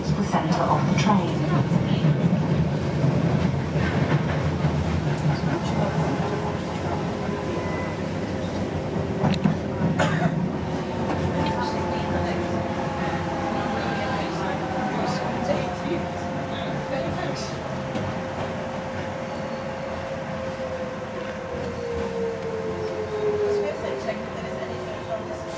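A Docklands Light Railway train runs along its tracks between Lewisham and Bank, giving a steady rumble and rolling rattle with rising and falling motor whine, heard from inside the train under occasional announcement speech.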